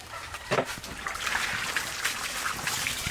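Water poured from a container in an outdoor washing setting, a short splashing trickle with a few louder splashes near the start, close by and moderately loud.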